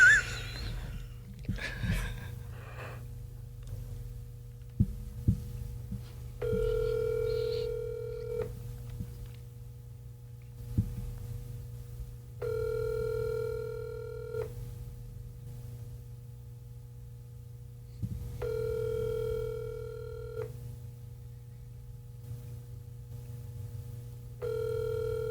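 An outgoing phone call ringing out, with a few quick button tones at the start followed by repeated evenly spaced ring tones with pauses between, clear and moderately loud.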